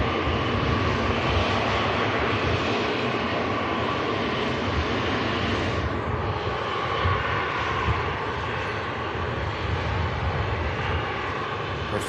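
A NetJets Cessna business jet on the runway at Manchester Airport, its engines giving a steady, loud broadband roar throughout, with no voices.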